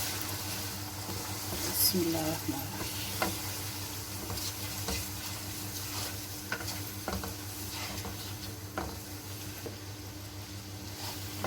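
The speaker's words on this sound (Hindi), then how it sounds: "अब मैं सारे ये मसाले ऐड करूँगी, मिक्स करेंगे।" Spices are stirred into chicken frying in separated oil for a restaurant-style chicken jalfrezi: a soft, steady sizzle with occasional scraping taps of the spoon, quiet and close.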